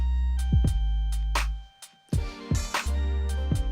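Beat playing on a Maschine+ groovebox with the sample muted, deep booming kick and bass hits with sharp snare and hat strikes, dropping out briefly before the pattern resumes, loud and close.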